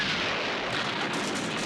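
Movie explosion as a gas-filled bathroom is ignited by a lighter, a dense, rumbling roar of fire and blast filling the short span, heavy and sustained with no voices.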